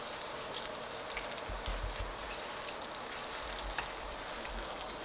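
Bacon sizzling and crackling steadily in a hot pan, close and even throughout, with small pops and no talking.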